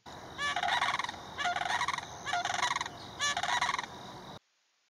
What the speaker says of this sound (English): Here is an example of a unison call, which is used by paired adults.